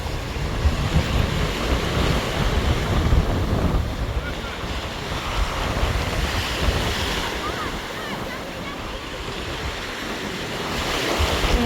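Sea surf rolls and crashes steadily on a southern coast while strong, squally wind buffets the microphone with a constant roar, loud and close throughout.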